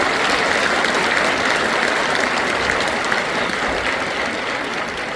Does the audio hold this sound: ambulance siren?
no